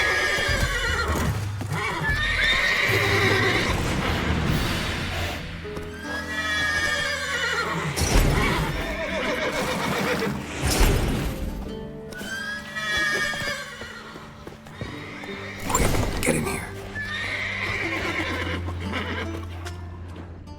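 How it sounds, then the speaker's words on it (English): Horses in The Witcher 3 whinny repeatedly and loudly at close range, with hooves clopping between the calls and a short spoken line over them. "Gotta calm all the horses before they wake the guards."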